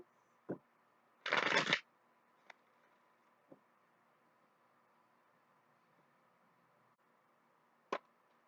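A deck of tarot cards is shuffled for a Celtic cross spread, giving one dense riffling burst of about half a second, with a few soft taps and card clicks before and after in a quiet room.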